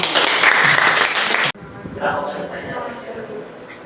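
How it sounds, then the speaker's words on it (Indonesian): Loud burst of audience applause in a university classroom teaching session, cutting off abruptly midway, after which quieter room sound and voices carry on. "Tepuk tangan buat"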